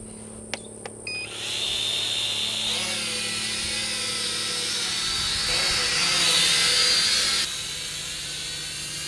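A National Geographic quadcopter drone lifts off, its small rotors spinning up from a few clicks into a steady high-pitched buzzing whine that swells and shifts in pitch as it rises, close by.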